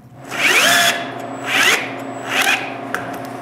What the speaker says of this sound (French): Quand le trou est fait, je peux le visser en place.